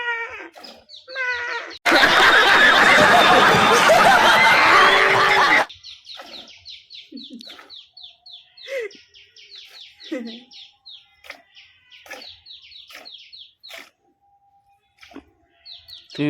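A person imitates a goat bleating in short repeated calls near the microphone, with chirping birds and brief talk around them and one loud burst of noise early on.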